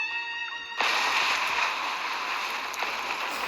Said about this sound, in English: The explosion roared to life.